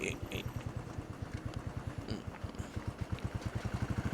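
A motorcycle waiting at an unstaffed toll gate, its engine idling close by with a fast, steady, even pulsing thump throughout, alone with no talking.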